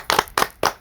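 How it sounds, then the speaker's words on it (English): A short round of clapping in a television talk-show studio, with three distinct bursts of hand claps in quick succession, close and fairly loud, with no talk over it. "I think you deserve a round of applause"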